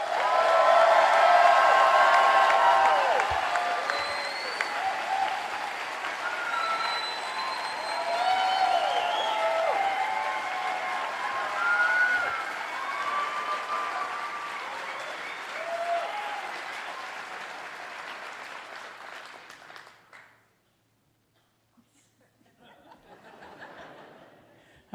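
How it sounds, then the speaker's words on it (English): Graduation crowd at an engineering faculty ceremony clapping loudly and steadily with some laughter for about twenty seconds, then a brief near-silence before scattered clapping resumes. "Can we hear a loud"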